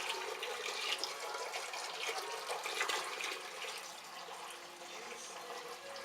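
Mash water pours into a mash tun during a home all-grain brew day for an American IPA, a steady, fairly soft rushing and splashing stream heard alone without talk.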